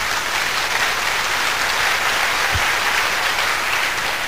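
Audience applause at a church pastoral seminar, with dense, even clapping filling the room for the whole stretch and no voices over it.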